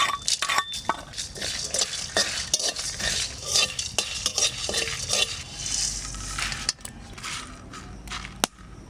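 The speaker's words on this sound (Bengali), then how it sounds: "আগে শুকনো লঙ্কাটা দিয়ে দিচ্ছি, গোটা ধনেটা আর লঙ্কাটা ভাজতে দেরি হয়, একটু আগে দিয়ে দিলাম গোলমরিচ আর জিরে।" Dried red chillies, whole coriander, black pepper and cumin frying in a pan, bright crackling sizzle under frequent metal spoon scrapes and clinks, loud and close, no voices.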